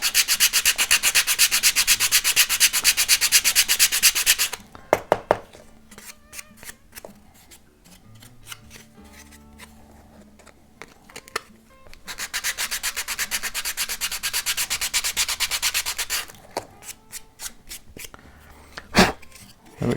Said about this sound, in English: with the same block. This is a 220 sandpaper, by the way.